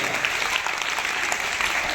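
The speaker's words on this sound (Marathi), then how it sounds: "सर्वांनी परत एकदा तिच्यासाठी जोरदार टाळ्या वाजवायच्या." A school audience at a Rajmata Jijau birth anniversary celebration applauding a sixth-grade girl's speech, with dense, steady clapping that continues unbroken throughout, fairly loud and close.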